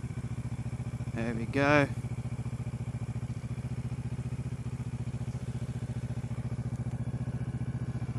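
Motorcycle idling after pulling over on gravel at night, a steady low engine putter with a brief clatter and a short spoken remark partway through.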